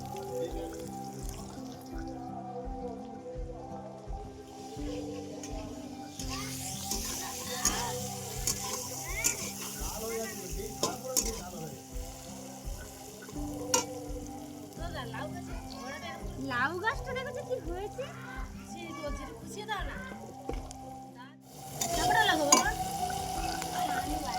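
Onions fry and get stirred in a pan for a dried-fish chorchori, a soft steady sizzle with rhythmic scraping strokes and an occasional trickle of water, close and fairly quiet, with people talking in the background.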